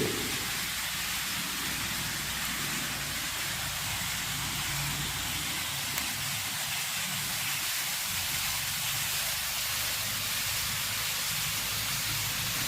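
A hose rain irrigation line sprays water over garden plants, making a steady, even hiss like falling rain that continues unbroken at moderate volume from start to finish.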